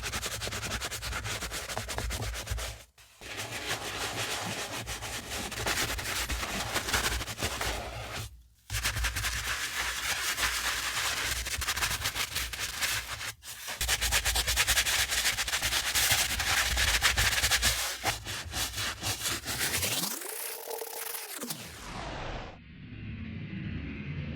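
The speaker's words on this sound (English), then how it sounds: "I want to gently scrub each portion of the leather, making sure to be thorough." A brush scrubbing the leather of old Vans shoes with cleaner, a steady close rasping rub in long strokes broken by short pauses, ending in a brief rising whoosh.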